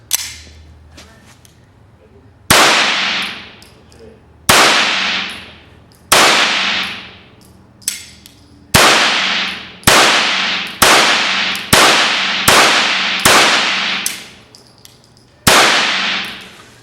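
Stinger rimfire rounds fired from a Mosquito revolver, about a dozen loud, sharp cracks in uneven succession with ringing decays, some fired in quick runs, outdoors.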